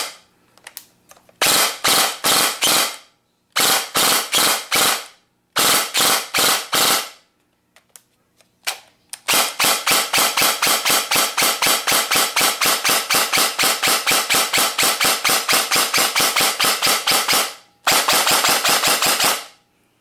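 An Ares G36C airsoft rifle fires close and loud, first in several short bursts separated by pauses, then in a long continuous automatic stream of rapid sharp cracks, ending with one more brief burst.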